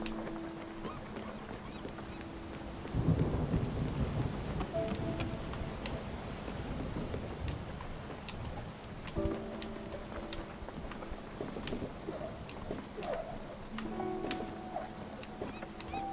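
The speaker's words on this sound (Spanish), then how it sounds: "Tormenta." Rain pours steadily in Spiritfarer during a thunderstorm, a dense wash that swells after a few seconds, with faint tonal game music running beneath the downpour and no voices.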